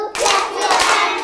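Second-grade children in a Telangana classroom clap their hands together in a brief, loud, dense burst of many small hands.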